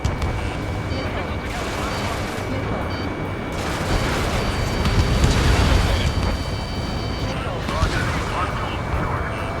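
Missile launch and explosions in the combat flight game Ace Combat 7, heavy rumbling booms and blasts rolling continuously, loud and dense, with a swell of roaring detonation in the middle, under radio-style voices.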